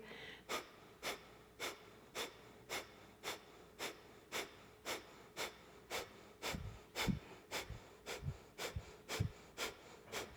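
Rhythmic Breath of Fire breathing, about twenty sharp, evenly spaced forceful exhales through the nose, close and fairly faint, speeding up slightly toward the end with no talking.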